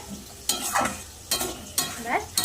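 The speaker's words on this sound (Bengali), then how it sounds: "আলুর দমের আলু কিন্তু ভাজা প্রায় হয়ে এসছে" Potatoes for aloo dum frying in a pan, with three sharp bursts of stirring and scraping over a steady, moderate sizzle and no talk.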